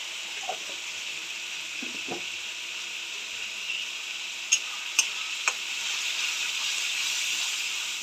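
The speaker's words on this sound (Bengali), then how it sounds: "ভালো করে মশলাটাকে কষাবো।" Spice masala frying in a pan, a steady bright hiss of sizzling oil with a few soft stirring scrapes early on and three sharp clicks of the spoon midway, close and even with no talking.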